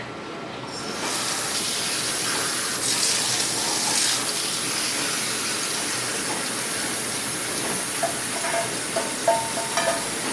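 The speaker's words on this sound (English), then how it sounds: "So what you're gonna do is put the strainer in the sink. And you're gonna strain off everything" Water from a sink tap rushing steadily through a strainer as casserole ingredients are drained, a continuous close hiss that starts abruptly and runs throughout, with a few small clatters near the end.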